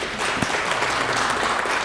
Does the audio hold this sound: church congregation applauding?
yes